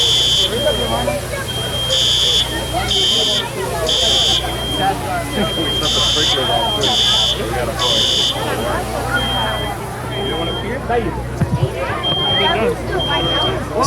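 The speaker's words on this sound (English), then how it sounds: "Can we shut the alarm off?" A fire alarm buzzer at a fire department flashover and sprinkler demonstration sounds in repeated short electronic bursts, loud and shrill, over a steady engine drone and a crowd murmuring and talking.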